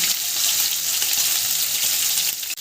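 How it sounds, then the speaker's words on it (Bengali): Sliced onions sizzle loudly in a hot pan while being stirred, a dense, constant hiss filling the short stretch, close and with no voices. "পেঁয়াজগুলো একটু নেড়ে নিয়েছে"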